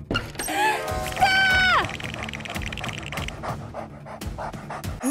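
Dog in the video game Minecraft panting in quick, rhythmic breaths close up, mixed with a brief bright sliding tone and light game noise.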